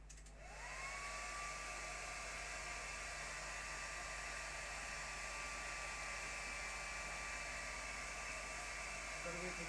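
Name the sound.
hair dryer blowing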